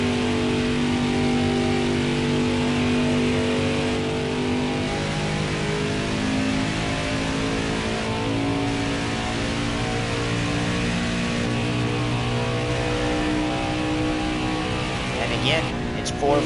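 NASCAR Camping World Truck Series trucks race laps at Pocono Raceway, engines droning and revving steadily throughout, loud and continuous under a commentator's voice.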